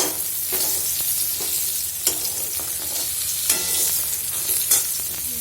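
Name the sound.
pointed gourd (potol) frying in a pan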